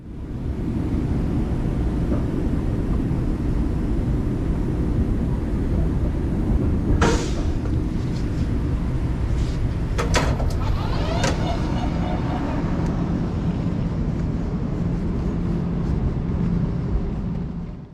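A Long Island Rail Road M7 electric multiple-unit train pulls into Long Beach station, a steady low rumble and hum throughout with a few brief squeals and clanks around the middle, no talk.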